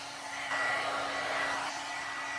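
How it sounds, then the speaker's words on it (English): A heat tool blows hot air steadily to dry moisture out of a stamped block, a continuous broadband whoosh that swells louder for about a second in the middle, with no talking. "Heat tool does get hot."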